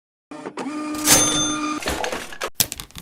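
A video game vending machine dispenses food with a mechanical whirring and tonal hum, then a few clunks and rattles as the item drops, close and fairly loud, with no talking.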